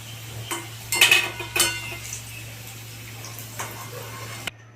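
A utensil clinks and scrapes against a pan as lightly reddened fried potatoes are lifted out of hot oil, with a few sharp metallic taps over a low, steady kitchen hum.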